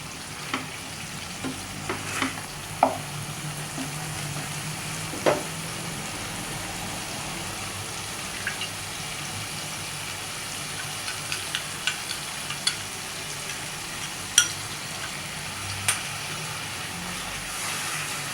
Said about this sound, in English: Now it's time to add the paste of cashew nuts, almonds and watermelon seeds.